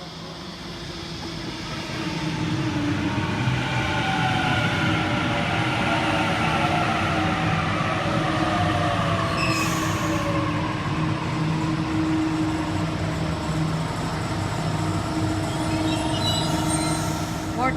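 A Waratah electric passenger train on a Central service pulls into platform 2 at a suburban Sydney station, giving a steady loud rumble and rising whine across the whole stretch, with faint brake hiss near the end.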